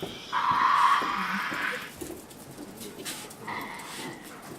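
Harsh, rasping growls and screeches from Tasmanian devils feeding at a wildlife park, loud at first then fading into quieter grumbling and snuffling nearby.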